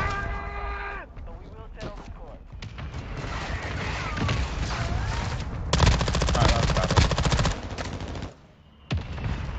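Video game gunfire, rapid automatic bursts and sustained volleys of shots crackling close and loud over several seconds, with a brief lull near the end before firing resumes.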